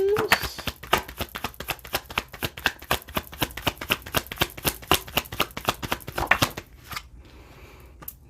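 Tarot cards are riffled and shuffled in a fast series of crisp, rhythmic flicks up close, stopping near the end. A voice speaks over the shuffling.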